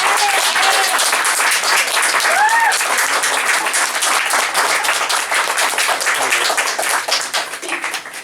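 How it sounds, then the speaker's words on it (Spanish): Loud, sustained audience applause for poet Margarito Cuéllar at a live literary reading, many hands clapping close by in a dense patter that starts to thin toward the end. "un fuerte aplauso para el maestro Margarito Cuéllar"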